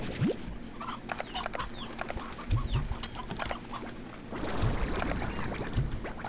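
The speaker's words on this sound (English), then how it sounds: "there are a lot more chickens than I expected" Chickens in the video game Slime Rancher 2 cluck in scattered, brief calls over a continuous in-game ambient background, with some bursts louder and closer than others.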